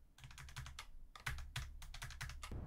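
Fingers tap rapidly on a computer keyboard during a Middle-earth strategy game session, a close, brisk run of clicky keystrokes in uneven bursts with short pauses.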